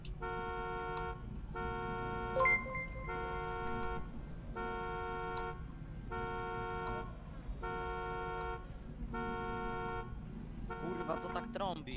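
Police car horn honking in a GTA roleplay game, repeated evenly spaced long blasts about once per second with steady rhythm, over low background game noise.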